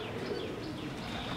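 Jaunsari teddy pigeons give a short burst of soft, close cooing with a rolling, throaty rhythm.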